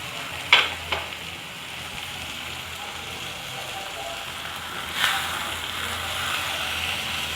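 Okra masala fried in a pan as pomegranate seed paste is stirred in, giving a steady soft sizzle with a couple of sharp scraping clicks near the start and another stir midway.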